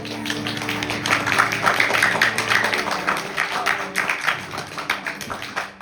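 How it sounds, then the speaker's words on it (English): A crowd at a Navratri night devotional gathering claps together in sustained, dense applause, close and loud, with individual hand claps blending into a rhythmic patter that rises and eases off toward the end. "I know those claps are claps of unconditional love from all of you"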